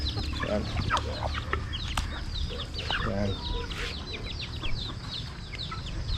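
Chickens and roosters on a backyard poultry farm cluck busily and constantly at close range, with scattered squawks and a steady hum of farm noise.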